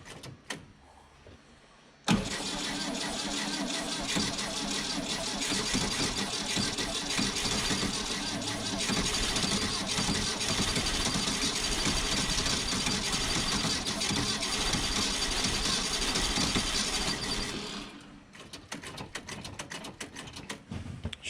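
An old Volkswagen Type 34 Ghia engine, left sitting since 1983, cranks and catches into a loud, steady rough running roar for about fifteen seconds before cutting back to quieter mechanical noise.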